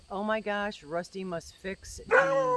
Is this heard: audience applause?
no